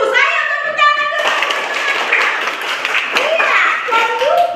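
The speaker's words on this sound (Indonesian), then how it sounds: "ayo tepuk tangan dulu" Children clapping together in a classroom, a burst of many small hands applauding after a short spoken exchange, with a voice at the start and some talk around it.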